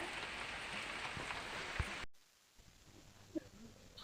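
Steady rain hisses softly with a few louder drips for about two seconds, then cuts to near quiet with scattered faint drops.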